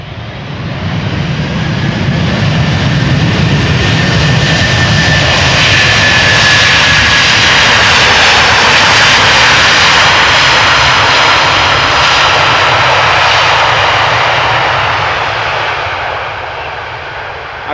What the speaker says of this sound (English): Delta Airlines flight 136 A330-300 arriving from Detroit, Michigan.